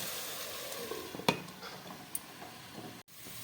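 Mutton curry frying in a pan for a Bengali-style kasha gives a soft steady sizzle, broken by a few clear scrapes and clinks of a spoon stirring against the pan, with no talk.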